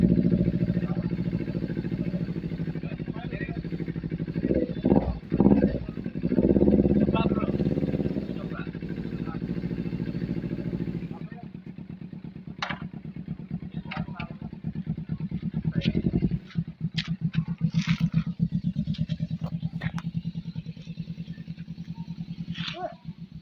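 A Kawasaki Ninja 250 with an SC Project exhaust idles with a deep, close rumble, revs up loudly for a few seconds, then settles into a rapid, choppy burble with sharp crackles and occasional throttle blips.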